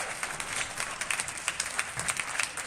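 Squash crowd at a semi-final of the Squash On Fire Open 2024 breaking into steady applause after a rally, a dense sustained patter of many hands clapping at moderate distance, without talk.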